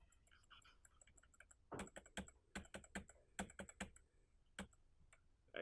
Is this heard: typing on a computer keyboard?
yes